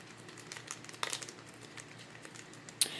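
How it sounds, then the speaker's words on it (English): A plastic paste packet being kneaded by hand, giving soft crinkling and rustling throughout with a few sharper crackles, close and quiet, no voices. "I'm going to show you how you use a paste packet. First of all, you want to make sure that you knead it."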